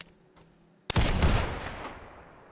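Gunfire in a video game. After a quiet start with faint clicks, one loud close blast erupts and its rumble slowly fades away.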